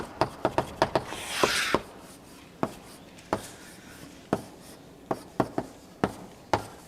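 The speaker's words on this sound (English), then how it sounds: "So I'll just write minus H plus." Sharp, irregular taps and scratchy strokes of writing on a board during an organic chemistry lecture, coming in quick clusters with pauses and a brief longer scrape, heard alone in a quiet room.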